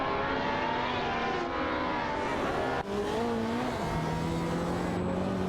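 Engines of race cars in an AI-driven racing video game, a steady loud roar with engine pitch rising and dropping through gear changes, with a brief dip near the middle.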